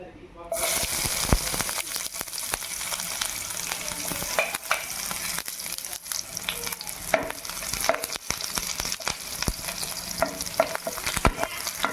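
Onions tossed into hot oil in a home kitchen, a loud continuous sizzle with frequent stirring scrapes and clatter throughout, no talking.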